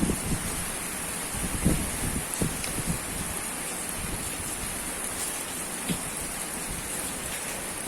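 Steady rain falls with strong wind in an outdoor setting, a constant hiss with a few louder gusts and patters scattered through, and no voices.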